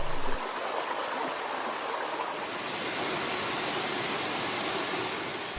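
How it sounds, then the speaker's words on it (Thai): Mountain stream in Kaeng Krachan National Park, Thailand, rushing toward the nine-tier Thong Thip waterfall, a dense steady roar of flowing water that stays loud and unbroken throughout. "น้ำจากลำห้วยและน้ำจากสายทานเล็กๆในป่าและบนเขา จากนั้นก็ค่อยๆขยายตัวเป็นทางน้ำที่ใหญ่ขึ้นใหญ่ขึ้น ใหญ่ขึ้นและแรงขึ้น"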